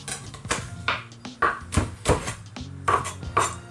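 Two garlic cloves crushed under a thick block on a kitchen surface, a series of sharp knocks and dull thuds in an uneven rhythm, close and moderately loud.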